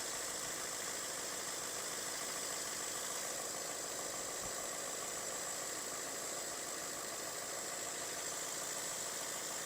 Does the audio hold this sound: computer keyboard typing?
no